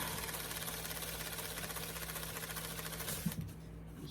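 A motorized spinner turning an acrylic pour painting whirs in a steady, continuous mechanical drone with a constant hum, then quietens near the end after a couple of light knocks.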